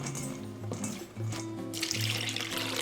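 Water running and filling into a bowl of long thin-sliced green onions, a soft trickling pour from close by, fairly quiet and steady, with a brief louder splash near the end.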